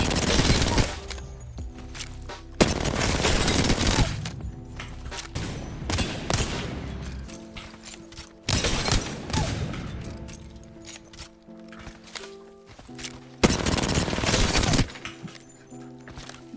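Rapid bursts of gunfire in Apex Legends aimed at bots in the firing range, loud and close, coming in several long volleys separated by brief quieter gaps.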